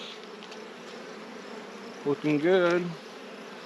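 Honeybees hum in a steady, close drone from an open production hive, with a voice speaking briefly over the buzzing near the end.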